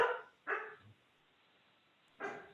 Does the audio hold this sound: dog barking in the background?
yes